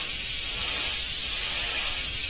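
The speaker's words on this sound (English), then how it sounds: "make sure your gun's spraying right" A paint spray gun hisses continuously and evenly while spraying a fade onto a fishing-lure gill plate, close and loud, with no talking.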